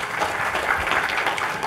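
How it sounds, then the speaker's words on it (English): A conference audience at a web security talk gives a man a brief round of applause, a short burst of close, lively clapping from many hands. "Give that man a round of applause, please."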